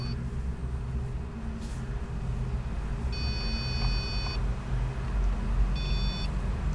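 A REM pod paranormal detector at a ghost hunt in the ruins of St Johns Church beeps twice over a steady outdoor hiss: first a longer electronic tone lasting over a second, then a shorter one a moment later.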